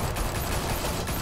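Dense rapid gunfire in the video game Batman: The Telltale Series, a loud continuous burst of overlapping shots.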